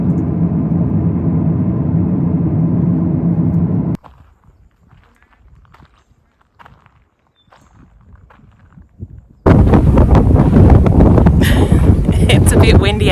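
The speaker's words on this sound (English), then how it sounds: "It's a bit windy, as you can hear" Strong wind buffets the microphone on the Walpa Gorge walk at Kata Tjuta in Central Australia, roaring loudly at first, dropping to near quiet with faint rustles, then returning in heavy close gusts.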